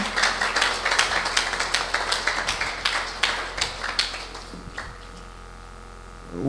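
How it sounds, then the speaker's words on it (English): Workshop seminar attendees clap their hands in a brisk, sustained patter for nearly five seconds, the applause then thinning out and falling away into room tone. "Clap your hands for yourself."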